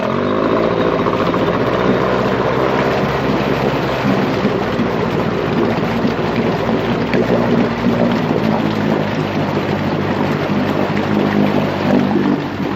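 A restored Evinrude 9.5 HP Sportwin outboard motor, salvaged from a scrapyard, runs steadily at close range with a dense, continuous engine drone and splashing water, holding a constant loud level throughout.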